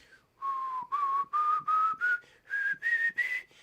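A person whistles a rising scale in tune, eight clear sustained notes in steady succession, each one stepping slightly higher, close and alone with no talking.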